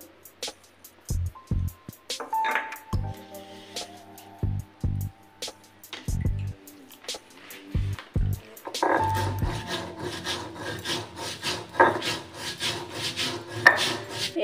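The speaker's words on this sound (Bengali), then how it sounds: "এই মৌরি, পোস্ত আর হচ্ছে কাজু বেটে নিচ্ছি।" Fennel seeds, poppy seeds and cashews being ground into paste on a grinding stone, heard as close, repeated rough rubbing and scraping strokes, spaced out at first and then turning into a denser, continuous grinding rhythm, with no voices.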